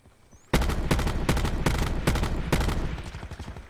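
Rapid bursts of automatic gunfire in Black Ops 4, about seven loud close shots in a quick rhythm after a quiet start, then tapering off.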